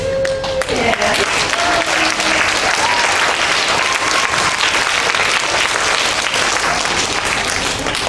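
An audience claps steadily and loudly at a fourth-grade recorder performance, a dense sustained round of applause with a few brief faint tones and voices at the start.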